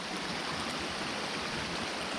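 Creek water rushes steadily around two trucks stuck in the streambed, a continuous broadband wash with no breaks, fairly soft and even, with no voices.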